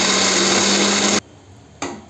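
Mixer grinder blending onion paste after ginger and garlic, a loud steady motor whir that cuts off abruptly, followed by a brief second burst after a short pause.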